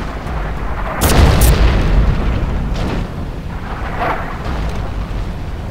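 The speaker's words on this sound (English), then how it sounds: "That was their artillery." Enemy artillery shell exploding in the World War II shooter Forgotten Hope 2 during the Siege of Tobruk, a single loud boom with a deep rumbling tail over steady battlefield noise, no voices.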